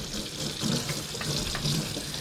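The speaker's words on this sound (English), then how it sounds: "skin part, like filament, that you want to rinse off, just like that. Rinse off easily." Ribbon fish, also called belt fish, rinsed under a running kitchen tap, a steady close splash and hiss of water over the fish in a sink, continuous with small shifts as it is handled.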